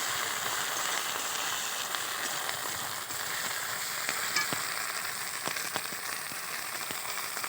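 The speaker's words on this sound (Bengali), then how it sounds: "আদা রসুন বাটাটা দিয়ে ভালো করে একটু ভেজে নিতে হবে।" Ginger-garlic paste sizzling and frying in hot oil in a pan for a spicy chela fish curry, a steady close crackle with light stirring scrapes and no voices.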